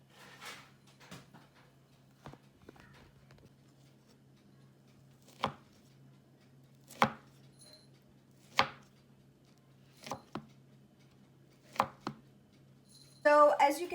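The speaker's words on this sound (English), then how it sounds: "you need a sharp knife, and you're just going to cut them thinly" A sharp knife slicing thin pieces through baked Moroccan fekkas, heard as crisp, well-spaced cuts against a cutting board in a quiet room, ending in a short flurry of clatter.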